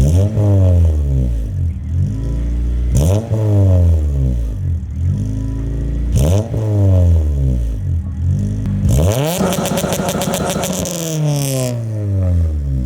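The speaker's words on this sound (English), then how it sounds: "Give it a few revs at like 2, 3, and 4." A loud car engine revs repeatedly through a raw, throaty Yonaka catback exhaust, each rev rising and falling, ending with a longer harsh high-rpm burst.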